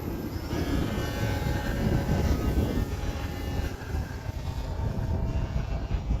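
Electric motor of an H-King Wargo Signature Edge 540T ARF model airplane in flight on a windy day, a continuous droning whine with wind buffeting throughout, steady and moderately loud, no talking.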